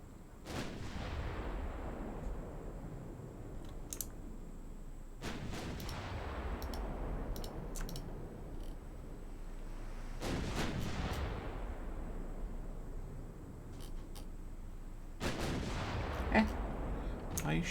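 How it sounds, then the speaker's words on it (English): Naval secondary guns fire in a battleship game, Ultimate Admiral Dreadnoughts, with several heavy booming salvos spaced a few seconds apart, each followed by long rumbling decay, plus smaller sharp reports in between. "That's what the secondary guns are for."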